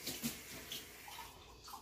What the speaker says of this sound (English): So I'm just going to add some water right to this pan.